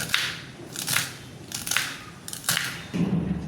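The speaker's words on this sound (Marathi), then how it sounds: "आता आपण याला कट करून घ्यायचं, बारीक बारीक कापून घ्यायचं याला मस्त।" Peeled taro stalks are chopped finely with a knife, a series of four or five crisp, crunchy cuts at an even rhythm, close and fairly loud with no voices.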